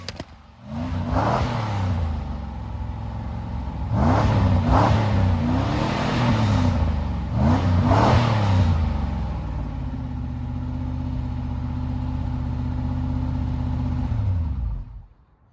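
A car engine idles close by and is blipped several times, each rev rising and falling, then settles into a steady idle before cutting off abruptly at the end.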